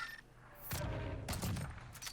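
Two sharp gunshots in Call of Duty Warzone Pacific ring out about half a second apart, each with a short echoing tail, at moderate level.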